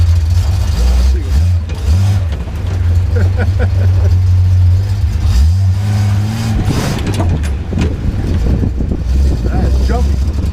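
A Datsun 240Z with a touchy, grabby clutch and slightly too much ignition advance drives along, its engine droning and revving close up with an uneven, jumpy note, while a voice talks over it.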